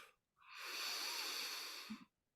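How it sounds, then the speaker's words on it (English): A single long, deep breath drawn in through the nose during meditation, rising from silence into a soft airy hiss that holds for over a second, then stops with a faint click. "Take a deep breath."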